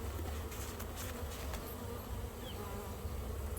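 Bees buzz steadily around an open top bar hive during an oxalic acid sugar dribble treatment, a dense, continuous droning hum with no voices, close and even throughout.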